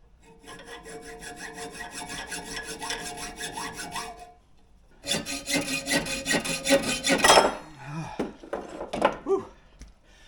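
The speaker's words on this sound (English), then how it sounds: "I'm just going to stick it in the vise here and then just cut away with my metal hacksaw." Metal hacksaw cutting a metal piece clamped in a vise, steady back-and-forth rasping strokes up close, a brief pause midway, then faster strokes that trail off into a few clanks.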